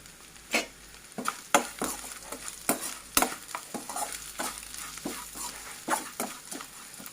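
Egg and rice stir-frying in a pan over a steady sizzle, with a spoon or spatula scraping through the food in repeated, fairly regular strokes; close and moderately loud, with no talking.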